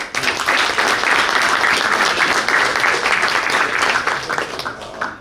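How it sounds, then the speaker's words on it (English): Loud, sustained applause fills a high school boys varsity basketball banquet, many hands clapping together at close range before fading slightly at the end. "we'll clap it up for the table"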